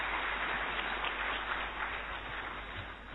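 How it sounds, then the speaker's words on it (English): Audience at a real estate workshop applauds the session speaker, a dense steady clapping of many hands for about three seconds. "Please give him a big round of applause once again"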